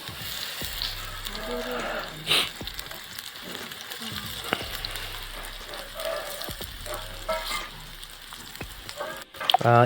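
Cut potatoes go into hot oil for a village-style potato fry, giving a steady close crackling sizzle with a few sharp clinks and stirring knocks, over soft low tones.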